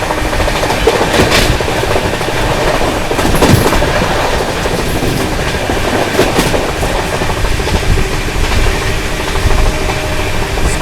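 A Duronto Express train rushes through Indargarh railway station, a loud continuous roar with rhythmic clickety-clack of wheels over rail joints, heard up close and steady throughout.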